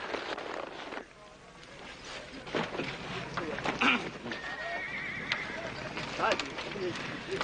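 A horse whinnies in a short high call partway through, with hooves clopping and voices talking around it.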